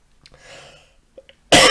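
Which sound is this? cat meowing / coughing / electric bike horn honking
coughing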